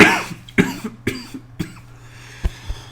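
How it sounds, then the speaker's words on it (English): A person coughs repeatedly, five or six sharp dry bursts spaced roughly half a second apart, loud and close with no speech. "I can't get rid of this cough"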